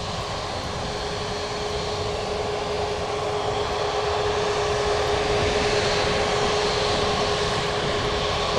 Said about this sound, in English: JetBlue special livery over there.